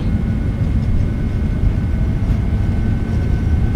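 Rolls-Royce engines of a PMDG 777-200ER in Microsoft Flight Simulator 2020 spool at takeoff thrust on a Heathrow departure, a loud steady low roar with a broad rumble and a faint high whine throughout, no voices.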